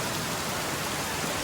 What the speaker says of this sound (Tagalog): Ayan o, umuulan din ngayon o.